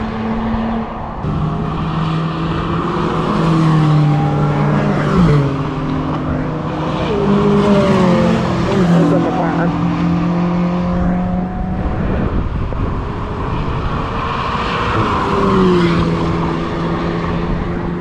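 An Atom sports car drives past on a racetrack, its engine note rising and falling through gear changes, heard continuously and fairly loud over steady track noise and other cars.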